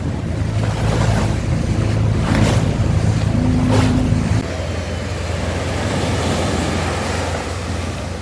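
A boat engine drones steadily at sea off El Nido, Palawan, with wind buffeting and water rushing past the hull; the engine tone drops partway through and no one speaks.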